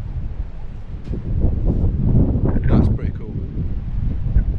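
Strong, fierce wind buffets the microphone at a castle in Scotland on a clear blue-sky day, a steady roar that swells and gusts for the whole stretch.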